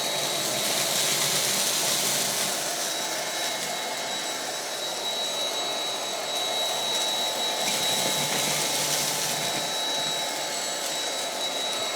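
A Bissell Featherweight cordless stick vacuum sucks up spilled oatmeal, its steady high-pitched whine running loud and close without a break, with slight swells as it is pushed along.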